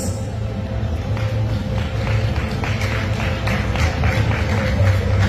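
Applause from an award ceremony audience, a steady wash of many hands clapping together, dense and sustained at moderate loudness with a low room rumble underneath.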